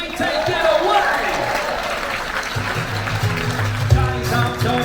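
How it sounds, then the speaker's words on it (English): An audience at a cruise ship show breaks into applause and crowd noise that swells and holds, a mix of clapping and cheering with a voice talking over it and a low thump near the end. "One more thing we're going to need from everyone here before we really get going is a big old round of applause"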